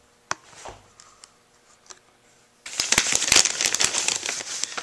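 Plastic packaging of a Baofeng UV-3R handheld radio crinkles loudly and continuously during unboxing, after a few sparse handling clicks and taps.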